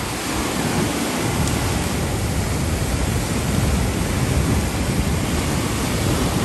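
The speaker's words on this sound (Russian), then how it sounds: "Так, волны просто и все." Strong wind and rough sea waves on a beach at Lazarevskoye, a loud, dense roar of surf and gusting wind filling the whole clip without pause.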